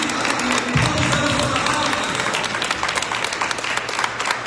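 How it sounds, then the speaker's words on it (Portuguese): A church congregation applauds during a sermon, a dense crowd of clapping hands that fills the space steadily and then thins slightly toward the end, with some voices underneath. "Você pode aplaudir o Senhor?"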